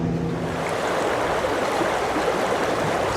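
A creek in Red River, New Mexico flows with a steady, loud broadband rush and babble of water, continuous and close, with no voices.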